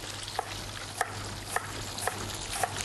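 Schnitzel fries in oil with a steady crackling sizzle, punctuated by regular light clinks or taps roughly every half second, close and moderately loud with no talk.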